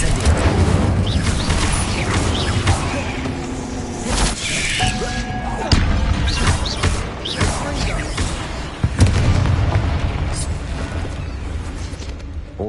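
Incendio fire spell casts in the Hogwarts Legacy video game amid a catacomb setting, a series of crackling, whooshing bursts and crashes over a busy rumbling background, with several sharp hits spread across the passage.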